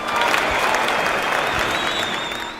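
Audience applause, an even wash of clapping from a crowd that holds steady for a few seconds, moderately loud, with a faint high whistle-like tone running through it.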